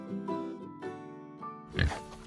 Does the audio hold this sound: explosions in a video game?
no